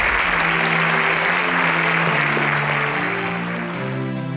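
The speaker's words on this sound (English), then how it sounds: "Please let's give them a round of applause as they exit." Sustained audience applause fills the room at a televised SPAK competition as eliminated contestants exit, steady and loud throughout before easing slightly at the end.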